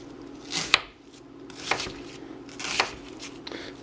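Sharp knife chopping ingredients for a rustic beef stew on a board, three or four crisp, separate cuts spaced about a second apart over low kitchen background noise, fairly close and clear.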